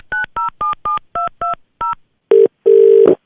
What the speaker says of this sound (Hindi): आपने जो नंबर दे रखा है अपनी गर्लफ्रेंड का, मैं उस पर फोन कर रहा हूँ